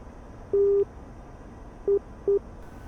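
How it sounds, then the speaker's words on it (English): A Morse code radio beacon ident in a flight simulator sounds one dash followed by two dots, a steady pure beep over faint background hiss. "going to listen for the Morse code"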